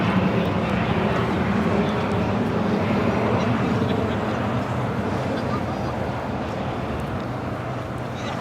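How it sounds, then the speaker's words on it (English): An Eva Air Boeing 777-300ER jet at LAX gives off a loud, steady broadband roar that fades slightly toward the end, with wind buffeting the microphone. "Eva Air, the Star Alliance, 777-300ER now pushing back"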